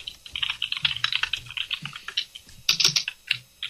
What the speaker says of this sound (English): That's what it sounds like. My dad typing.